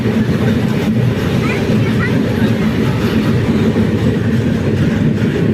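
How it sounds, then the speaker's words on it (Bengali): A train rumbles continuously on its tracks, loud and close, with a steady low roar and faint background voices. "লাইফে ফার্স্ট টাইম এত দূর ট্রেন জার্নি করছি।"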